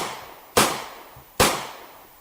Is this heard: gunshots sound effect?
yes